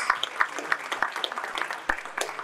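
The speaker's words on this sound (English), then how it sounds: "let's give her another round of applause" An audience at an awards event for men of honor gives a round of applause, a continuous patter of many hands with some sharper individual claps, steady and moderately distant.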